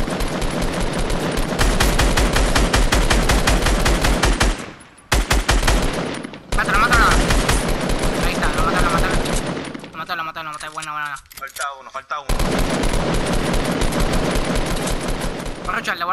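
Video game gunfire rattles in long, rapid automatic bursts, loud and close, stopping briefly and resuming, with a voice talking over parts of it.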